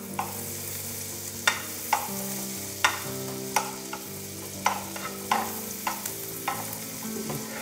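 Chopped garlic frying in melted butter gives a steady, close sizzle broken by regular scrapes and taps of a spatula against the pan, about one every half second.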